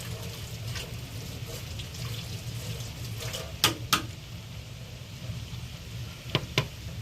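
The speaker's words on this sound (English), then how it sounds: "Washing off my blade." A knife blade rinsed under a running kitchen tap gives a steady close wash of flowing water, with a few brief splashes and clinks near the middle and end and no talking.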